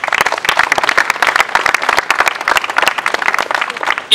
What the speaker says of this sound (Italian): a cui dedicherei anche un applauso